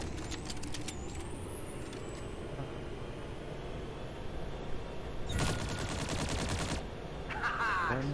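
A vehicle-mounted gun in Farlight 84 fires sustained rapid bursts over a steady engine drone, with a louder cluster of shots midway and a mechanical whine toward the end.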